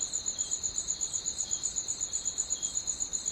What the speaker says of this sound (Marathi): रातकिड्यांचा आवाज येतो आहे बघा